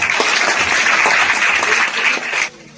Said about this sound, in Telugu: ఒకసారి అందరూ చప్పట్లు కొట్టండి